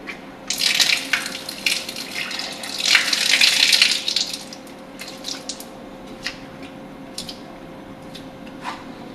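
Water splashing and trickling over an arm during wudu ablution, a few seconds of uneven pouring and squishing rubs, then fading to faint drips, with no talking.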